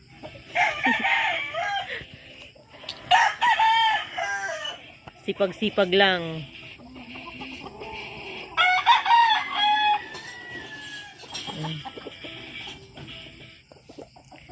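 Gamecock roosters crow loudly and repeatedly nearby, long drawn-out calls coming one after another, with a person speaking briefly between them.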